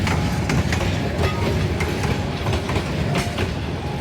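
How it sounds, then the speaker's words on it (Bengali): The Tista Express pulls away toward Dhaka Kamalapur, a steady, loud rolling rumble of rail cars with rhythmic wheel clatter running through the whole stretch, close by and with no talking. "ঢাকা কমলাপুরের উদ্দেশ্যে তিস্তা এক্সপ্রেস ছেড়ে গেল"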